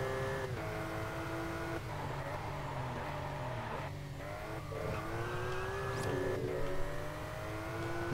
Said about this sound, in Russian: Полный привод Porsche — это вещь тогда получается.